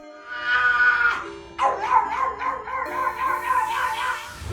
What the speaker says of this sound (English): Every time this dog hears an ambulance, it becomes the ambulance.